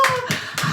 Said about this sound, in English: Let's go ahead and clap it up for him, our studio audience.